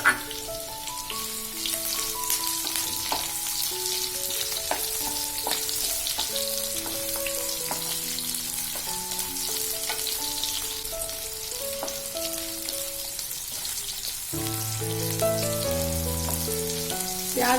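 Onions frying with cumin and carom seeds in hot oil give a steady sizzle that runs unbroken for the whole stretch, partly masked by a louder melodic music track playing over it.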